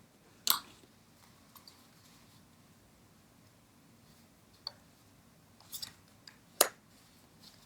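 Tarot cards drawn one at a time from several decks, giving a few soft, sharp flicks and slides of card stock against a quiet background.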